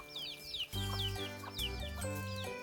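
Chickens cluck and call repeatedly inside a cattle pen where they scratch through cow manure, several birds overlapping at moderate distance over a low steady background hum.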